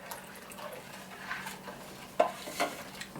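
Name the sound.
stirring ginger beer mixture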